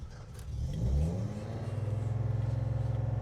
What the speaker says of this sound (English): Well, here is our cold start.